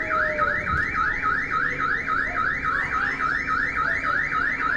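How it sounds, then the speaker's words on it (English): A car alarm blares steadily near a bus during a street fight, its rapid warbling siren repeating in a fast regular cycle, loud and continuous with no talk over it. "Car alarm going off for what reason?"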